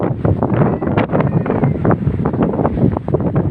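Strong wind roars and buffets the microphone continuously, with a rumbling, gusty rush and no voices.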